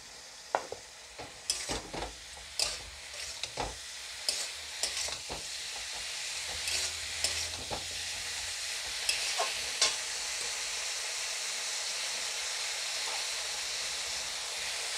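A spoon stirs spice paste mixed with ground cumin in a hot pan for an Assamese fish curry with cabbage, scraping and tapping in irregular strokes over a rising, steady sizzle.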